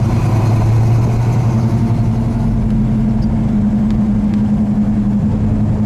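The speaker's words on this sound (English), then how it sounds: "Here we are in the 1969 Pontiac GTO Judge, and we're taking a little ride in Tennessee" A 1969 Pontiac GTO Judge with a 400 Ram Air III V8 and four-speed manual cruises along a Tennessee road, its engine a steady, close, low rumbling drone heard from inside the car with no talking.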